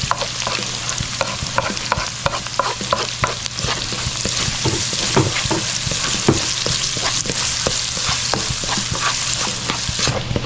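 Garlic, onion and ginger sauté in hot oil for rice porridge, a steady close sizzle broken by regular scraping stirs of a spoon against the pan, with no talking.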